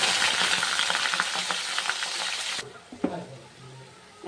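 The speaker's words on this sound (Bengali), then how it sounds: "এবার পেঁয়াজটা দিয়ে দেবো।" Onion sizzles loudly in hot oil with dried red chillies, cardamom, cinnamon and cloves. A steady, bright frying hiss cuts abruptly quieter partway through, then a few stirring clinks follow.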